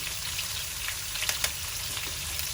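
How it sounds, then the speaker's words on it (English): Curry leaves fry in hot oil over a medium-low flame while stir-frying beetroot, giving a steady, close sizzle with small crackling pops throughout. "And as for the curry leaf, I'm just going to add some of it first."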